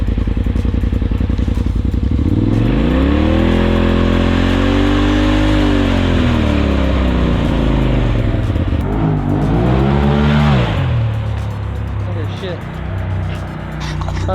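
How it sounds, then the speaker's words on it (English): A Polaris RZR Turbo fitted with a Trinity Racing exhaust and aftermarket blow-off valve revs hard and repeatedly, the engine pitch climbing and falling with crackling and clatter, loud and close, with people talking over it. "We're gonna turn on the car."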